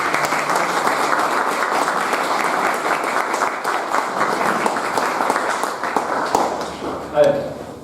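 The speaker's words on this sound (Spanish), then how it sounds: "Nada más les pido un aplauso para estar acá." An audience at a book presentation bursts into sustained applause, a dense, even wash of clapping from many hands that carries on for several seconds before thinning out.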